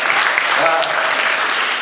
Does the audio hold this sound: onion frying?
no